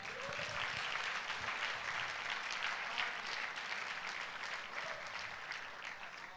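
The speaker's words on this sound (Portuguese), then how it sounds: "Dá um aplauso a Jesus aí." A church congregation at a pastors' gathering applauds steadily, a dense, sustained wash of clapping from many hands that holds at an even level throughout, with no speech over it.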